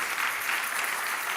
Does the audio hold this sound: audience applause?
yes